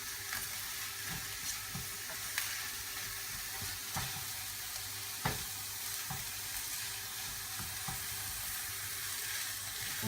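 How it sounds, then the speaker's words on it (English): Chicken curry frying in a pan as a teaspoon of garlic puree is stirred in, giving a steady close sizzle with several soft scraping and clinking stir strokes and no talk. "garlic puree, which is about a teaspoon's worth. Give it a good mix."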